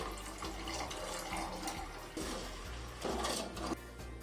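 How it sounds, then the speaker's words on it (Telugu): Water pours and splashes into a metal vessel of sugar for gulab jamun syrup in a few bursts, with light clinks of kitchenware nearby and no talking. "2 కప్స్ వాటర్ యాడ్ చేసుకుందామండి"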